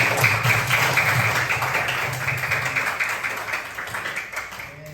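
A classroom of students claps hands together in a dense, steady burst of applause that stays loud for several seconds and fades slightly toward the end, with no one speaking.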